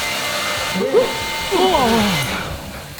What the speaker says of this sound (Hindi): अब वो हेयर ड्रायर यूज कर रहा है।